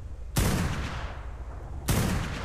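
Video game gunfire cracks out in two loud, heavy bursts about a second and a half apart, each decaying into a rumbling tail, with no talk over them.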